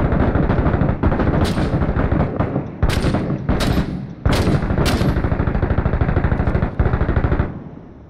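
Loud, close bursts of rifle and automatic gunfire in a video game set in Fallujah. Dense volleys repeat in rapid rhythm, with several sharp, cracking shots standing out over a constant battle roar.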